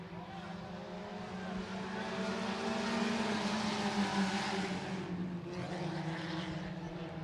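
IMCA Sport Compact race cars roar off the start of a heat race at Buena Vista Raceway, a dense, loud wall of engine noise from the pack that holds steady and then drops slightly as the field passes.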